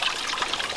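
Water splatters and trickles from a backyard pond waterfall's 12-inch Aquascape spillway, a brief, close, steady splashing.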